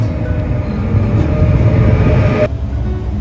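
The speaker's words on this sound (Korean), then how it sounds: "타고 갈 무궁화호 열차가 들어오네요." A Korean Mugunghwa passenger train rumbles into a station, a loud low drone with a rolling, rattling quality that shifts slightly as it pulls closer.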